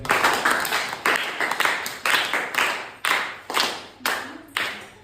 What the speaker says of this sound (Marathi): एकदा गीतासाठी जोरदार टाळ्या द्या